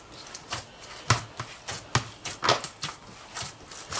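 Roti dough of flour and water is pressed and folded by hand in a bowl, giving a series of soft, irregular slaps and squishes at close range, with no talking.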